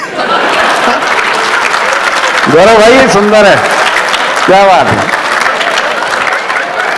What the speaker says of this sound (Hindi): जिन्होंने तालियां बजाई, इनकी पत्नियां नोट करें